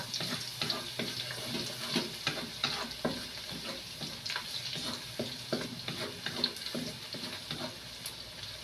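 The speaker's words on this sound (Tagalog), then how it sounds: "lagay na po natin yung bawang. Kasi mainit na po yung mantika." Chopped garlic sizzling in hot oil in a pan for Filipino chicken pastil, a steady frying hiss with irregular stirring clatter close up, no talk.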